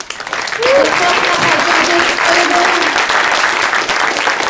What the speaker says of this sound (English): let's give our panelists a big round of applause.